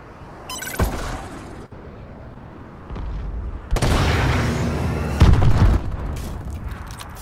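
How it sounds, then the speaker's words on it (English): Friendly missile strikes exploding in a video game, a run of heavy booms and rumbling blasts that grow louder and denser toward the end. "Friendly missile strikes inbound."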